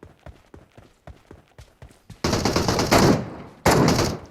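Gunfire in the PUBG Mobile battle royale game: a run of sharp single shots in quick succession, followed by two loud, sustained bursts of heavy automatic fire up close.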